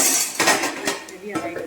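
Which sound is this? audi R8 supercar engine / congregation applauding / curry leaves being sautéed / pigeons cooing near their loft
curry leaves being sautéed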